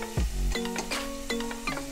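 Peanuts roast in a pan while being stirred, producing a continuous sizzle with scraping stirring strokes and light rattling of the nuts against the metal, close and fairly loud.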